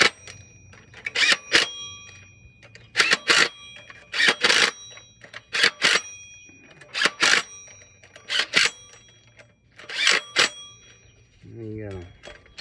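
A ratchet snugging bolts during a Corvette C4 transmission install, heard as several short bursts of quick metallic clicking with pauses between them, plus a faint low hum and a brief voice near the end.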